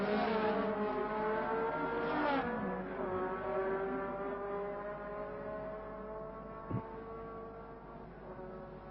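Formula 1 race cars from the 1966 French Grand Prix scream past, their high engine notes sweeping down in pitch as they go by, followed by a fainter second car passing. Heard from trackside, fairly distant and thin.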